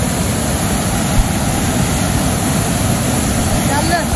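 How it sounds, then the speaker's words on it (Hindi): Loud, constant rushing of water in a wide canal, a broad roaring wash like a fast channel or weir, steady throughout with no voices. "लहरें देखें आप कितनी दूर दूर तक हैं और यहाँ तक पानी का शोर आ रहा है"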